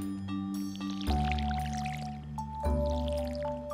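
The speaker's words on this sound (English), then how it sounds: "And give them some water so our seeds grow nice and strong." A watering can waters seeds in the farming game Stardew Valley, making two soft squishy splashes about a second and a half apart over steady game background music.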